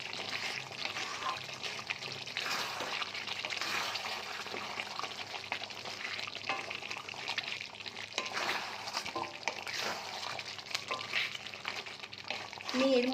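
Chicken simmering in its own released water in a pan, a soft continuous bubbling sizzle with occasional stirring scrapes, faint and close, under quiet talk.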